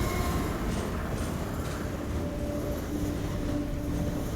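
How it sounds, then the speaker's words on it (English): A heavy train rumbling across a highway bridge in the video game Half-Life 2, a steady continuous low roar with faint metallic tones, loud and close throughout with no talking. "a train's riding on this, and it makes you feel like the bridge is going to collapse from the sheer weight of it"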